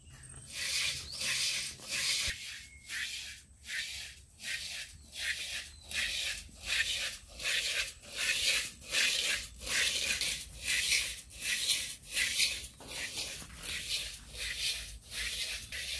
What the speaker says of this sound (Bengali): এই চালটা 10-12 মিনিট নাড়তে হবে, এরকম একটু ঘন ঘন নাড়তে হবে।